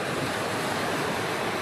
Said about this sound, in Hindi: इतनी अच्छी हवा चल रही है, सामने बीच है